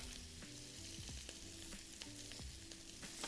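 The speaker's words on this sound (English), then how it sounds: "Make sure that's smoking hot before you add your first ingredient, your asparagus." Asparagus stir-fries in a smoking hot wok with a constant crackling sizzle, punctuated every half second or so by scraping clanks of a utensil pushing and folding the food, close and with no talking.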